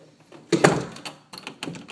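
An indoor door swings shut with a close thump, then a lock clicks and rattles in a few quick, dry metallic taps, with no voices.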